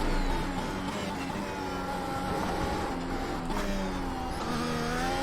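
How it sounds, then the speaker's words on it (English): Formula 1 car lapping Indianapolis in a racing video game, its engine a continuous high-pitched whine with shifting tones throughout, steady and loud with no pauses. "Show that you can still race a Formula 1 car on a game."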